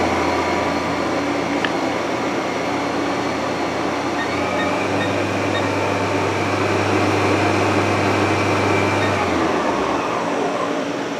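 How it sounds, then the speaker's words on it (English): A Haas VF-4 vertical machining center hums with its spindle running, a steady loud whine and drone that shifts pitch midway, then drops away near the end. "We are running the spindle right now."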